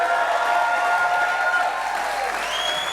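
A studio audience applauds Natasha Stuart and the boys at the close of a talk show, steady dense clapping with faint cheers, sustained and even throughout.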